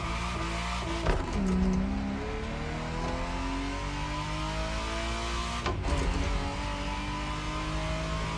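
A Ferrari Testarossa in The Crew Motorfest racing game holds a steady engine drone throughout, with brief revving and tire squeal near the start and again around the six-second mark.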